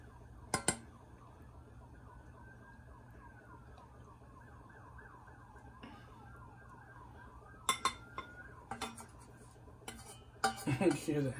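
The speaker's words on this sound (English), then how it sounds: "Hear the ambulance in the back." Far off, an ambulance siren wails faintly in a rising and falling sweep while utensils clink and dishes clatter close by in a kitchen.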